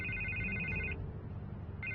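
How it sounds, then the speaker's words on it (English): A telephone rings in a Batman video game, a steady electronic trill that stops and then starts again, clear and fairly loud over a low background rumble. "I can't get the phone to stop ringing."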